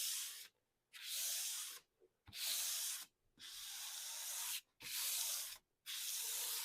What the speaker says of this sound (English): So again, I'm using the block with the 220 grit sandpaper.